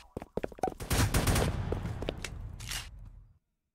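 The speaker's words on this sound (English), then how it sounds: "Freaking a Nerf gun!" A Nerf gun fires in the Roblox video game as a rapid, loud burst of popping shots. It blends into a dense stream of firing that lasts about three seconds and then cuts off abruptly.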